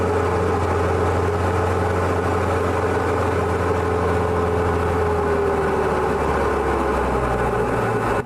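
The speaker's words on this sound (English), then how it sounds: "You can hear the engine powering back, and the nose is coming up" Model aircraft engine throttling back in flight, a steady continuous drone with a slowly falling pitch, fairly loud and close with no voices over it.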